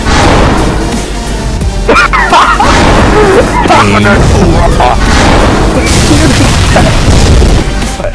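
Heavy booming blasts from a grenade in Halo 3 matchmaking hit loud and close amid chaotic game noise, with voices talking over the explosions.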